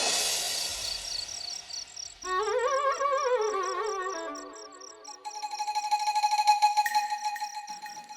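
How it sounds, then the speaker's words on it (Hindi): A phone rings in a comedy show with an electronic melodic ringtone, several bright tonal phrases that shift pattern partway through and play loud and clear without speech. "फोन उठाओ स्वीटी।"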